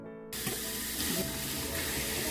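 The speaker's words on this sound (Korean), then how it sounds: "평소에 담가 놓은 오이좀 닦습니다." After a brief quiet moment, running water gushes steadily at a sink while pre-soaked cucumbers are washed for pickles, a close, full splashing hiss with no speech.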